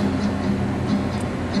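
Steady low rumble and rushing hum of an approaching Metro Red Line subway train arriving at a station, continuous and fairly loud, with faint high squeals over the roar.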